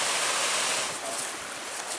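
Small waterfalls and rapids along a forest trail in Michigan's Porcupine Mountains give a continuous broadband rush of water, steady and fairly close, with no voices.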